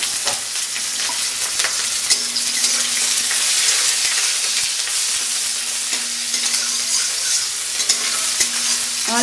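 Onions frying and being stirred in a hot wok for a fish and taro curry: a steady, loud sizzle with repeated scraping stirs, and no voices.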